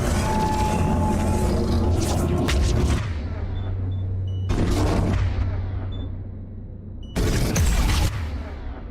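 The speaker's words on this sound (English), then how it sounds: "just an explosion of powers" Repeated loud booming blasts of video game explosions, in bursts at the start, middle and end, with a sustained low rumble between them and no talking.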